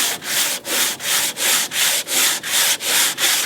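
A boat hull is sanded by hand before painting, the abrasive scraping in steady back-and-forth strokes of even rhythm, about three per second, loud and close with no talking.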